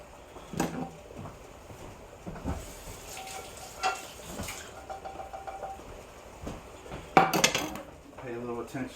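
Ground hamburger meat frying in a pan, with soft sizzling and scattered clinks and scrapes of a utensil stirring against the pan, fairly quiet in a home kitchen.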